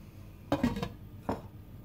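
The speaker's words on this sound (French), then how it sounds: "Je viens couvrir d'un couvercle et ensuite je laisse mijoter tranquillement pendant 30 minutes." A metal lid set onto a pot of simmering lentils, two clanking contacts a moment apart, close and fairly soft against a quiet kitchen background.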